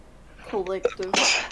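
A single sharp sneeze bursts out during a tabletop role-playing podcast session, preceded by a brief spoken word and a quick breath, close to the microphone.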